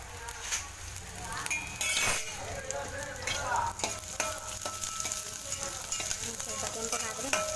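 Cinnamon, cloves, ginger, green chillies and garlic sizzle and fry steadily in oil for aloo bath, with a spoon stirring and clinking against the pan throughout at close range.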